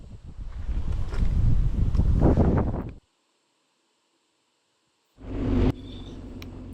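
Strong wind during bushfires buffets the microphone with a loud roaring rush, cuts out into silence, then returns in a short gusty burst.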